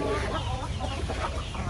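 A flock of native chickens on a poultry farm clucking and murmuring close by, a busy continuous chorus with no pauses.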